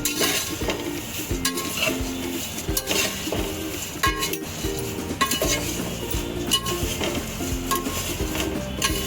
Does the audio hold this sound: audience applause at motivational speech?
no